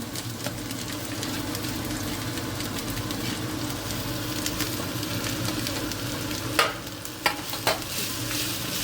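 Onions sizzle steadily in hot oil for a homemade pizza topping, with a continuous close frying hiss and a few sharp spoon clacks against the pan near the end.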